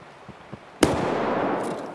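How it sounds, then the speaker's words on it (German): A single sharp gunshot from Escape From Tarkov cracks out in the game, preceded by a few faint pops and followed by a lingering, fairly loud rumbling tail, with no voices. "Ich hab das Schießen gehört."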